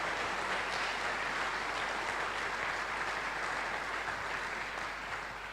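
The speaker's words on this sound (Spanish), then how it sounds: "¿Puede dar palmas de honra a la palabra, por favor?" A church congregation claps their hands together in a dense, continuous roar of applause that stays loud and full throughout, tapering only slightly at the very end.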